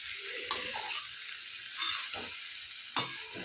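A spoon stirs food frying in a pan on a home stove, a steady sizzle underneath with three distinct scraping strokes against the pan, close and clear, no talk.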